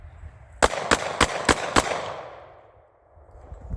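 Five rapid, evenly spaced gunshots from a Sig P365 pistol fired as a magazine is emptied, sharp and loud, each with a short ringing decay that tails off into quiet outdoor air.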